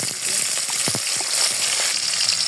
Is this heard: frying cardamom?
yes